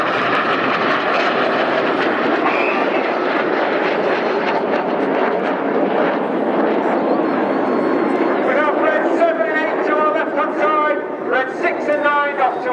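Red Arrows jets roar overhead at the Royal International Air Tattoo as they fly the Hannah break, a loud sustained rush under continuous commentary, with crowd voices rising near the end.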